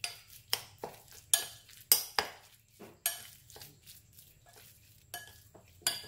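Utensil clinking against a bowl while mixing minced pork with light soy sauce and pepper, a run of close, sharp taps and scrapes in an irregular rhythm.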